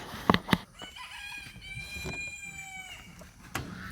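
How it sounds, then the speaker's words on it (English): Small silkie chickens in a pen with a broody hen call out in a series of clear, harmonic clucks and drawn-out tonal cries, with a couple of sharp close bursts near the start over a low barnyard background. "Here is the toy pen of toy chickens. Little tiny silkies."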